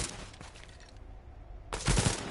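Gunfire from another player in the video game The Division: a loud burst of rapid shots at the start, a brief lull, then another sharp, heavy volley close by.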